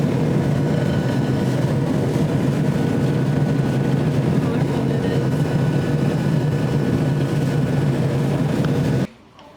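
An airplane roars loudly and steadily through takeoff, a dense continuous engine rumble that holds for several seconds before cutting off abruptly near the end.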